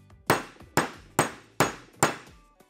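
A hammer strikes a socket five times at an even pace, driving a bearing into a dirt bike wheel hub; each hit is a sharp, close metallic knock with a short ringing decay, no talk.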